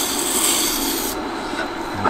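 A flat woodworking chisel grinds steadily across a sharpening stone, a continuous loud abrasive rasping with a slight shift in tone partway through, close and alone with no talk.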